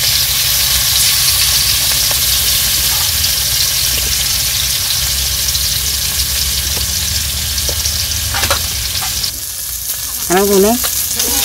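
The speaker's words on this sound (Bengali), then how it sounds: "দিদি মাছ ভাজ বানছে" Fish sizzles loudly in hot oil, a constant close crackling hiss that runs throughout, with a few brief faint sounds near the end.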